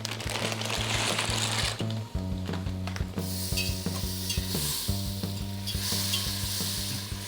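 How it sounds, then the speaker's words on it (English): Butter melting and sizzling in a pan, a dense, close, continuous crackle with a steady low hum underneath throughout. "It's okay if the butter browns a little bit."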